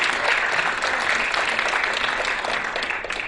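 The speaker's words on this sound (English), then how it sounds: "Let's give a big round of applause for our contestants, our hosts, and our sponsors." Sustained, dense applause from a theater audience at the Texas Quiz Show Championship finals, steady and fairly loud throughout with many hands clapping at once, fading slightly at the end.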